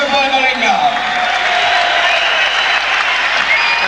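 A boxing crowd at the Chris Eubank vs. Thulani Malinga WBO super middleweight fight applauds steadily and loudly, a continuous roar of clapping with a ringside voice speaking over it.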